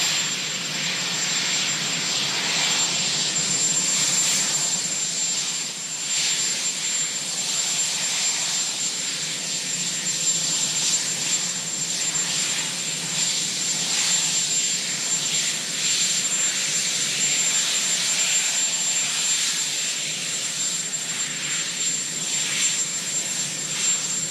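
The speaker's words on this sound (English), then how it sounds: "So he is taking the Marine One helicopter" The Marine One presidential helicopter runs with a loud, steady turbine and rotor roar, constant and close throughout with no talk.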